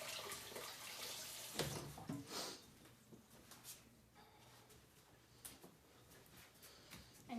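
Faint tap water running while a toothpick is rinsed during cookie decorating, a soft low splashing hiss with a few small knocks and splashes, quiet and without talk.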